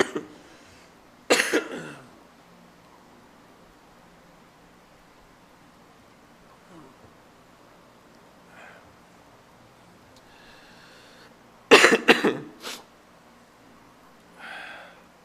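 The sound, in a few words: coughing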